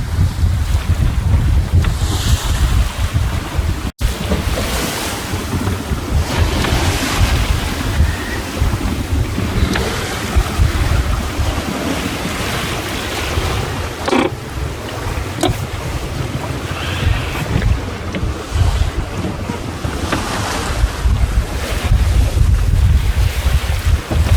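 Strong wind roars across the microphone aboard a sailboat at sea in rough, tide-driven water near an island, with waves slapping and rushing against the hull throughout, loud and constant with no one speaking.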